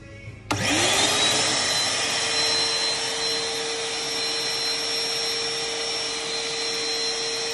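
An Anex AG-1099 three-in-one wet, dry and blower vacuum cleaner, a German brand made in Malaysia, switches on in blower mode with a sudden click, then holds a loud, steady whooshing roar with a high whine that settles into a constant drone.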